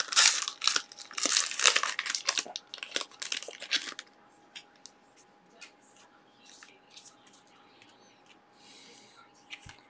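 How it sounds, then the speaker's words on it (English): A cellophane-wrapped card pack crinkles and crumples loudly up close in dense bursts as it is opened, then fades to scattered lighter rustles. "my scissors are coming in handy now when I have cello packs"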